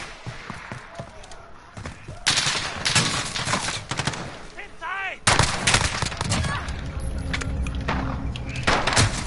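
Rapid bursts of gunfire in Call of Duty: Modern Warfare, with clustered automatic shots and loud impacts in quick succession against a busy game soundscape, while a voice talks over the action.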